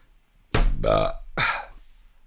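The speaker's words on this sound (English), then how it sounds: "Who burped?" Two loud, close burps follow in quick succession, the first long and throaty, the second shorter, in an otherwise quiet room.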